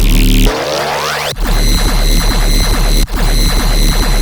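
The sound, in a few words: sustain bass synth in riddim dubstep track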